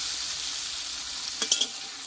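A spice paste of ground cashew, poppy seed and melon seeds hits a hot pan with a splash of water, giving a steady soft sizzle with a few brief crackling pops near the end, no voices.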